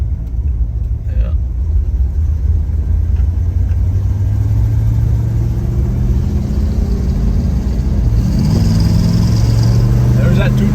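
A 1967 Chevelle Malibu with a 283 V8 rated at 220 horsepower runs on the road, a steady deep engine rumble throughout that rises slightly in pitch near the end as it accelerates, with people talking over it.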